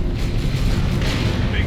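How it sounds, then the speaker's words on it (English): Cannon shot exploding in Dawn of War 2: Retribution during a 1v1 real-time strategy battle, a dense, loud, sustained low rumble of battle noise under game sound effects. "there comes that last cannon"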